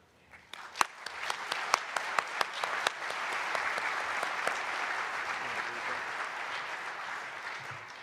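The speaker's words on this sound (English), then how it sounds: "I hope y'all all give yourself a round of applause." An audience at an aviation safety awards ceremony breaks into applause, starting with a few distinct sharp claps and swelling into a steady wash of clapping that holds to the end.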